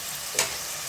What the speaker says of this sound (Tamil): இந்த வெங்காயம் நல்லா வதங்குது